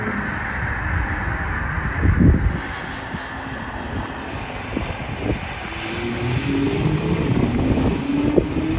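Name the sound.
Porsche car engine sounds on track with wind noise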